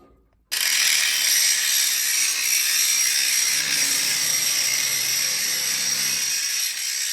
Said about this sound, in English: Just need to drill